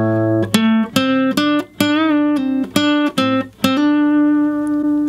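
An electric guitar plays a common rock lick at a slow, deliberate pace, with separate picked notes, bends and pull-offs sounding up close and distinct before a held note rings out at the end.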